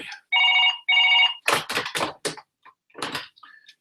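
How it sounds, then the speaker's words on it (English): A telephone rings twice in two loud, evenly spaced bursts during a live discussion, then clattering knocks and handling sounds follow close by. "there's a phone ringing"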